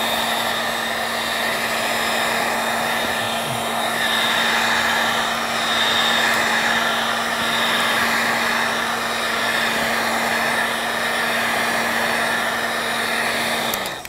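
A heat blower runs continuously close by, warming decal adhesive on a Ski-Doo Summit ETEC 850 154 snowmobile, giving a steady loud whooshing hum with a low motor drone and slight variations in airflow.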